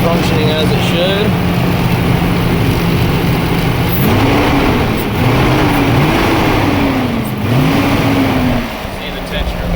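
A car engine with a newly fitted high-output alternator revs under throttle, its pitch sweeping up and down in several close, loud bursts over a steady idle, while a person talks over it.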